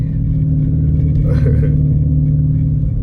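Dodge Challenger R/T running a catless exhaust rumbles deep and steady throughout while driving, with a brief rise in revs midway; no one speaks.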